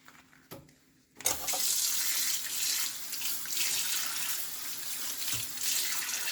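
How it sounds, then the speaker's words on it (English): Tap water gushes steadily into a sink while cut pork is washed, starting after a second of quiet with a few handling knocks, then a continuous close splashing rush to the end. "We're going to go ahead to wash our meat."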